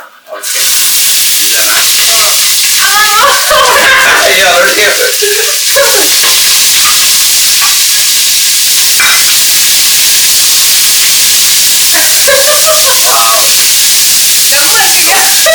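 Onion and green chili fry in a pan with a loud, continuous hiss and sizzle, broken by stirring scrapes, while people talk over it.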